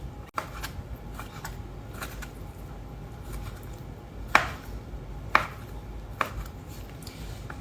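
A knife dices raw chicken breast on a cutting board, giving a few sharp, spaced chops close up over a quiet room background.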